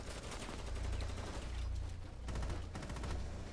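Sustained automatic gunfire in Rainbow Six Siege, loud and close, with rapid overlapping shots and heavy low booms running throughout.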